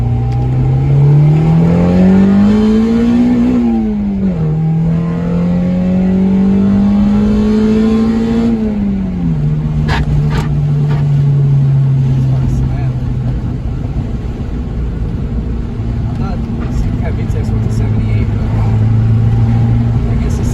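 Acura Integra with a B20 VTEC engine swap revving hard, the loud engine pitch rising and falling through two long pulls before settling to a steady idle-like drone, with people talking over it.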